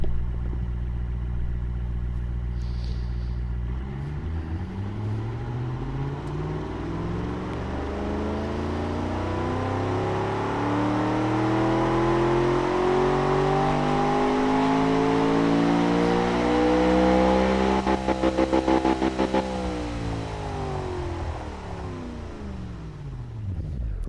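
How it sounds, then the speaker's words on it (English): A car engine fitted with a straight-through high-flow exhaust idles, then roars and revs up in long sweeping climbs and falls, loud and close, with no talk. "you want to hear this engine roar"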